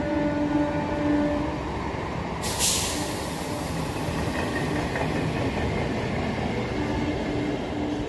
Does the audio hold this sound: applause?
no